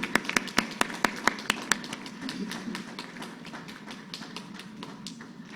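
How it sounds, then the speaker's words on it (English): At a Higher Education Commission launch event for a digital learning and skills initiative, a handful of crisp claps ring out, then fade into faint, scattered clapping over a quiet room. "A big round of applause for DLSEI."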